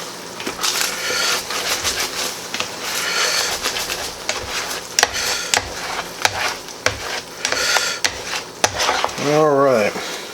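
Hamburger Helper with ground beef being stirred in a pan on a stove with the heat just turned off, a steady run of scraping and spoon clacks against the metal, close and fairly loud, with a brief voice near the end.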